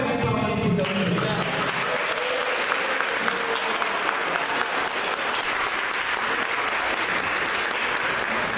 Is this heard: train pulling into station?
no